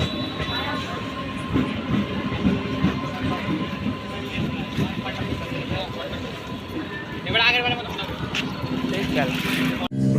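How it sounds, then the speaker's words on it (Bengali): A passing train rumbles and clatters steadily nearby, with a rhythmic clack of wheels and a faint squeal, while people talk over it throughout. "ট্রেন এইদিকে যাচ্ছে"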